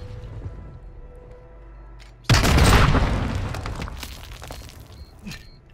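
A grenade explodes in Call of Duty: MWII, a single loud, sudden boom that rips out of quieter game ambience and decays over several seconds of rumbling debris.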